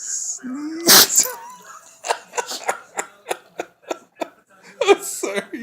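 A small dog sneezes in a quick run of sharp, snorting bursts, one loud blast followed by a rapid string of about a dozen short sneezes close to the mic, with a few soft voice sounds between them.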